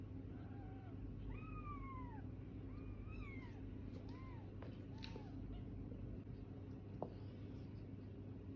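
A mother cat with her kittens gives several clear, rising-and-falling meows spread across the stretch, moderately near, over a steady low hum with faint background noise.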